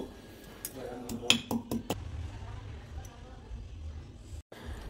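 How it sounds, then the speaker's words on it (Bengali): One teaspoon of fennel seeds is pounded in a metal mortar and pestle in a home kitchen, making a handful of sharp clinks and knocks clustered early on. Someone speaks over it. "একটা হামলদিস্তায় নিয়ে নিচ্ছি 1 চা চামচ মৌরি। মৌরিটাকে একটু থেতো করে নেব।"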